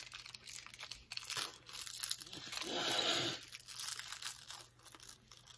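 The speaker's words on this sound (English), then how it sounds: "And then we are going to carefully pull up this top paper." Top paper peels slowly off a die-cut card, producing a close crinkling, tearing rustle that swells into one sustained peel near the middle, with light handling noises around it.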